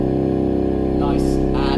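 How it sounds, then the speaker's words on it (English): Deep sustained chapel organ pedal note at the very bottom of the pedal board, sounding an octave below written, holding steady and loud with a rich rumbling low drone for the whole stretch. "right at the bottom of the pedal board, that means we can get a whole octave lower than actually sort of written, and it sounds like this."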